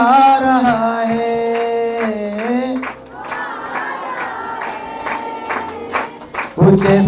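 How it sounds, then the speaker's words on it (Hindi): In a church service, the congregation keeps up rhythmic hand clapping, sharp regular claps carried beneath loud group singing and music. "ऊंचे स्वर से गाओ। खुदावन के लोगों तालियां बजाओ"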